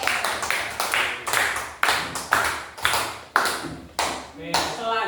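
Students in a classroom clap for a group returning to their seats in a microteaching lesson, a series of sharp rhythmic bursts of hand claps in sync, fairly close and loud.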